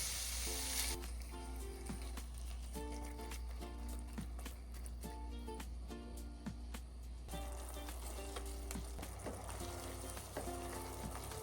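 Ground beef browns in a pan over lowered heat with a steady, soft sizzle, interrupted by rhythmic scraping and tapping as a utensil breaks the meat apart, fairly quiet with no voices.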